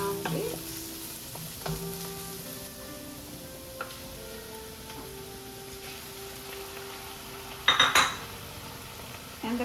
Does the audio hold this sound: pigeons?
no